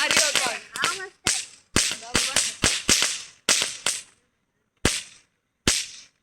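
Firecrackers burst outdoors in a rapid, irregular string of sharp, loud cracks that sputter out into a few spaced final pops.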